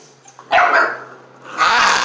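Seven-week-old American Bandog puppies let out two short, close barks with a gap between them.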